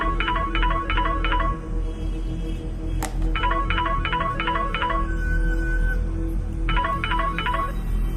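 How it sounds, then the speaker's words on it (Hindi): A mobile phone ringing in a quiet indoor night setting, with repeated bursts of electronic ringtone tones in three groups separated by short pauses, over a steady low background hum. "तभी अचानक ही नक्श का मोबाइल बज उठा।"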